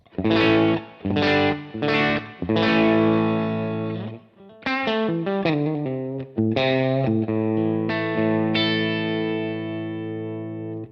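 Clean signal from a Telecaster's bridge pickup through a Bad Cat Black Cat 30 amp: a run of bright, twangy electric guitar chords and single notes, several sharply picked hits, then ringing sustained tones.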